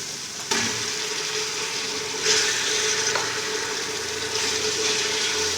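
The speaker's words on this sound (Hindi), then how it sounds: "अब इसके अंदर मैं कीमा ऐड करूँगी।" Minced meat (qeema) sizzles in a pan with cooked garlic-ginger paste, a steady moderate hiss with faint clinks of stirring and no talking.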